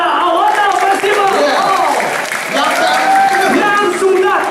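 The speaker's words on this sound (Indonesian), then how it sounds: "Tepuk tangan buat acara Awata Festival" An audience at the Awata Festival 2022 claps and cheers continuously and loudly, with a voice shouting over the applause throughout.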